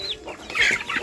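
Chickens eating feed give a quick pair of short, nearby clucks in a brief burst, with no voices.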